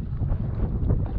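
Gusty wind buffets the microphone on a fishing boat out on the bay, a steady low rumble that swells and dips throughout the short stretch, with no voices.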